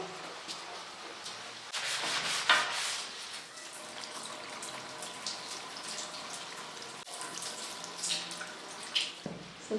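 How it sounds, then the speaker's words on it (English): A cloth rubbing and wiping over a glass surface to dry it after cleaning off soap scum, with steady close squeaky friction strokes and a few sharper swipes, and no talking. "So this is really just to dry it off."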